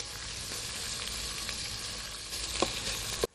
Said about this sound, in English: see how nicely the meat is searing already on the one side